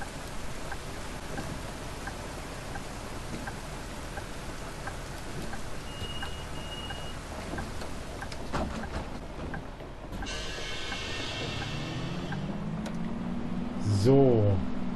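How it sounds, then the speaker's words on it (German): Steady rain falls in the Bus Simulator 21 game, a dense continuous hiss that runs throughout, with brief vehicle and door sounds near the end. "Es regnet aber ganz schön, ey."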